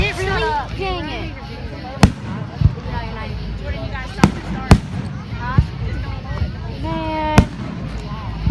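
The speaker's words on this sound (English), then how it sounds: "Look at them fireworks." Fireworks go off in Arlington as sharp booms and crackles spread over several seconds, a few loud bangs standing out, while people talk excitedly throughout.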